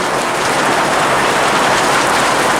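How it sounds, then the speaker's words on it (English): Heavy rain pours steadily and loudly onto surfaces in a garden setting, a dense continuous hiss with no let-up and no voices. "It's heavy rain."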